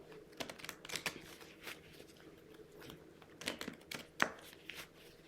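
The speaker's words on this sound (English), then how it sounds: "Let's give them a good ruffle shuffle." Quick crisp riffles of a Lenormand card deck being ruffle shuffled, a few bursts with short pauses between, close and fairly quiet with no talking.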